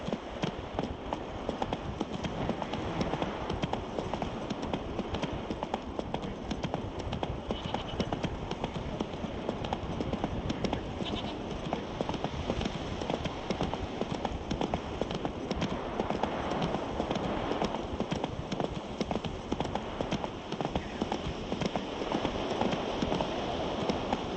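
Hooves of the horse Roach trotting in The Witcher 3, a steady clip-clop rhythm running continuously at moderate level over a constant ambient hiss.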